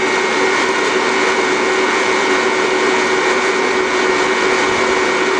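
An electric coffee roaster of about 1250 watts runs outdoors in a driveway, giving a loud, steady motorized whir with a constant hum that holds unchanged and close throughout, with no talk.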